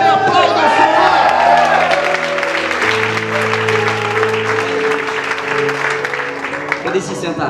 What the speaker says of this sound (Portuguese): dê um brado de vitória e aplauda o Senhor.